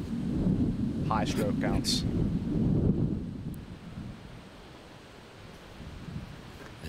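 Wind gusting across an outdoor disc golf course, a rumbling buffeting roar over the microphone that eases partway through, with a commentator speaking briefly early on.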